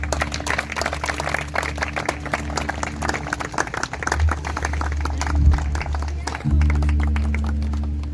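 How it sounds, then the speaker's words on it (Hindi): Guests at a Christian wedding ceremony near a church clap together in a steady, dense patter of applause lasting several seconds, with speech and background noise underneath. "ताली बजाइए।"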